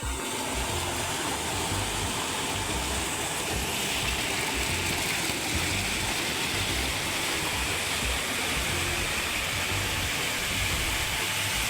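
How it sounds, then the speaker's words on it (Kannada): A large volume of water from the Bhima river pours steadily into a big village pond, a dense, continuous roar of falling water, loud and close, without a break. "ಭಾಳ ದೊಡ್ಡ ಪ್ರಮಾಣದ ನೀರು ಬೀಳ್ತದೆ"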